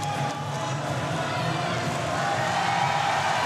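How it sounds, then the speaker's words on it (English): A French crowd cheers for a fighter at a Thai Fight kickboxing event in Paris, a steady, dense roar of voices sustained throughout without a break. "There's the cheers from the French crowd"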